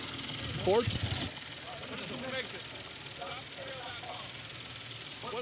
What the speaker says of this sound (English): That means you like this tractor right here, John.